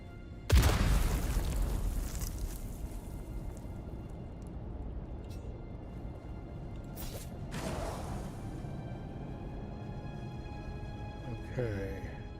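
Trap explosions in Dune Awakening: a sharp boom bursts out near the start and trails into a long rumbling, mechanical wash, with a second whooshing blast a few seconds later and a brief rise near the end.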